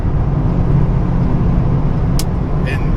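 A 2001 LS1 V8 F-Body with a T56 manual pulls at half throttle in sixth gear at high elevation, making a steady, deep engine drone with road roar and a brief faint squeak near the end.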